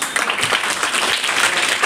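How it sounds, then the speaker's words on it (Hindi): A crowd of students and teachers applauds at a Hindi Day school celebration, with dense, steady clapping that stays loud and close throughout the short burst. "तालियां"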